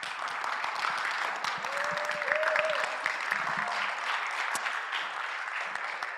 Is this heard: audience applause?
yes